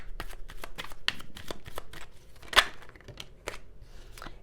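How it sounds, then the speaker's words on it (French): Tarot cards riffled and shuffled close by, a rapid series of crisp papery flicks with one louder snap as a card is pulled, no voices. "Je vais juste tirer quelques cartes supplémentaires."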